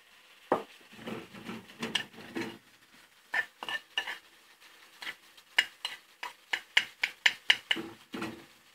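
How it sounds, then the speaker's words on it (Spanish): Mushrooms cook in butter in a pan for a salmon dish, with a faint sizzle beneath repeated close scrapes and clinks of a utensil stirring, coming in uneven bursts that quicken toward the end. "echamos los champiñones con la mantequilla. Esto es un sofrito."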